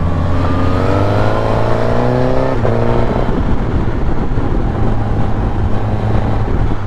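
A KTM Duke 790 motorcycle engine revs up, its pitch climbing steadily, then settles into a loud, continuous drone, close and steady without talk.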